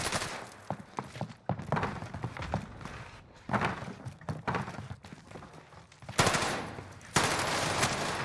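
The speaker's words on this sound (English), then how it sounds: "I hear shooting." Gunfire in Call of Duty Warzone on Rebirth Island, with sharp automatic bursts and single shots in irregular clusters, mixed with footsteps and in-game movement noise and no talking.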